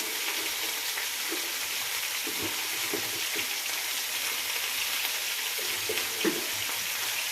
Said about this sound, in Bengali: পোস্তটা ভাজবো পোস্ত বাঁধবো বেটে নিয়ে তারপরে পোস্তটা করবো